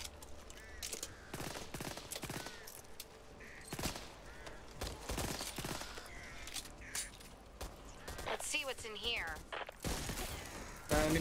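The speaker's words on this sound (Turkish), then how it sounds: "bak sakın kuşları vurmayın" Crows caw in Back 4 Blood, the zombie shooter, amid busy bursts of gunfire and game noise, with a player talking over the mix.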